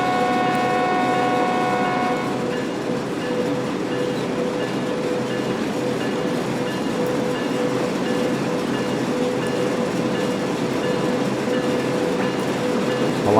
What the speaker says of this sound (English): Absolutely fantastic day for driving a train out here.